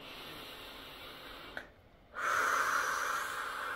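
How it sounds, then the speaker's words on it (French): A deep belly-breathing exercise: a breath, a short hush, then a long, loud, airy exhale that stays close and steady to the end, with no talking. "Et là je me fais une séance de respiration."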